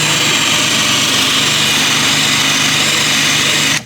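A rotary eraser wheel grinds adhesive residue off the painted body of a Nissan S14 Silvia, a steady, loud, high-pitched whirring drone held close and unbroken before cutting off at the end.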